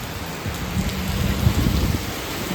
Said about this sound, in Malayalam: നല്ല മഴ അടിപൊളി